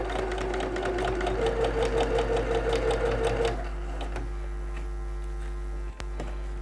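A domestic sewing machine runs a fast, even stitching burst along a fabric seam with a 1 cm margin for a small almond bag, then stops, leaving a low steady motor hum.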